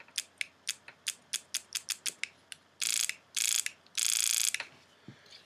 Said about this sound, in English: you can actually hear the solenoid moving.